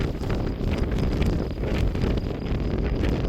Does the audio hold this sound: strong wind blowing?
yes